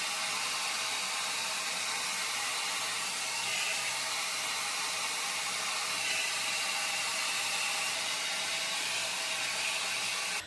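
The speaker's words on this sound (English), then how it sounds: "that was just about like 3 minutes of blow drying" A hair dryer blows steadily on short pixie-cut hair, a constant close airy roar that stays unbroken throughout with no talking.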